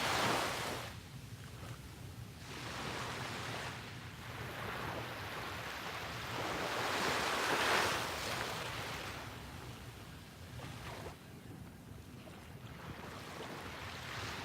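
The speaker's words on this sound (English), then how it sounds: "soak in the sounds of the waves" Ocean waves wash onto a shore in broad, steady surges, with wind noise buffeting the microphone and swells that rise and fall over the span, with no voices.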